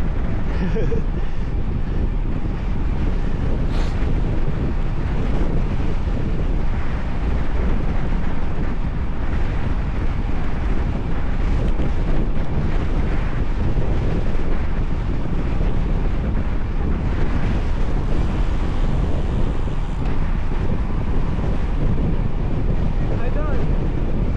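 Steady, roaring wind buffeting the microphone throughout, a constant dense rumble with gusts, as if riding at speed in open air.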